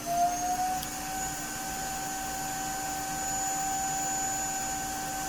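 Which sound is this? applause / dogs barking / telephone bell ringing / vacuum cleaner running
vacuum cleaner running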